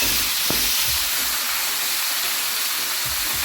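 Chicken curry ingredients sautéing in a pan, a steady loud broadband sizzle and hiss throughout with a few low stirring knocks, no talk.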